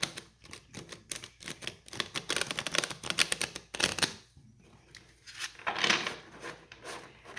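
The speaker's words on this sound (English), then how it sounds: "let's just kind of start shuffling the cards" Tarot cards being shuffled by hand, a quick run of crisp clicking riffles and soft rubbing flicks close by, pausing briefly midway before another burst, with no talking.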